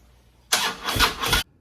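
A motorcycle engine with a weak, low battery cranks in one short burst of about a second, close and loud, turning over in uneven pulses without catching.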